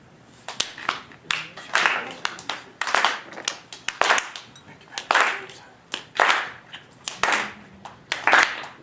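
Children clapping along in rhythm to a dog song at a kids' music session, steady evenly spaced claps close by with an adult voice talking and singing over them.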